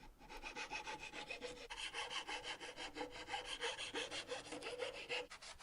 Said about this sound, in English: Then I went in with a normal file.